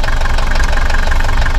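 Van engine idling steadily after air was pumped out of its fuel system, a close, loud, even rumble with a slight knocking pulse and no voices.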